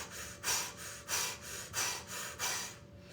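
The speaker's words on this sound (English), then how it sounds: "The breath is that powerful O-shaped breathing, creating an O with the mouth and breathing in and out through the mouth." Fast, forceful breathing in and out through a mouth shaped into an O during a Kundalini yoga Sahibi Kriya, heard as about six rhythmic, airy, close breath cycles with no talking.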